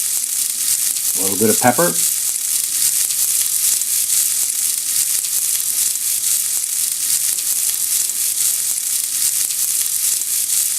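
Asparagus spears hitting a hot, shimmering oiled pan give a steady, loud frying sizzle that holds evenly throughout, with a brief spoken remark near the start.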